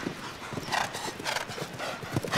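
Horse hooves thud in a rhythmic clip-clop on a show jumping course at a Grand Prix competition, moderately close under broad arena background noise, with no talk over them.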